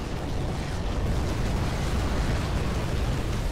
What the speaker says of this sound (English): the fire and explosions and shit are awesome